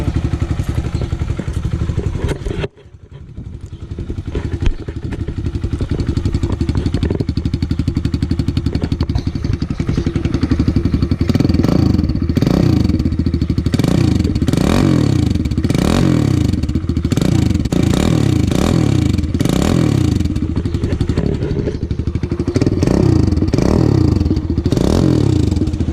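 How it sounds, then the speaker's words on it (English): 2020 Kawasaki KLX110L dirt bike engine warming up, a loud close idle clatter that breaks into repeated revving swells after a brief dip, steady and mechanical throughout with no talk. "while you're letting the engine warm up"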